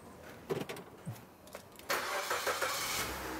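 A used car at a second-hand dealer starts up after a few clicks and short cranking bursts. The engine catches and settles into a steady, smooth idle close by.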